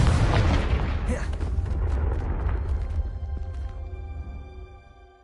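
A Confringo blasting curse explodes in the Hogwarts Legacy video game: a heavy, loud boom that rumbles and slowly decays over several seconds, with a faint crackle trailing off at the end.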